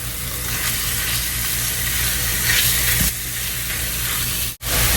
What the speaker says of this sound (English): go ahead and break up your sausage and let it start to cook.